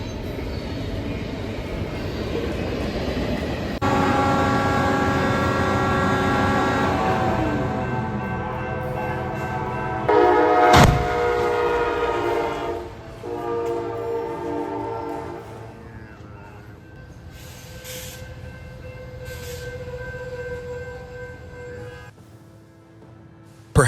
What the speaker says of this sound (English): Waiting a few seconds for a train to pass could be what gets you home safely.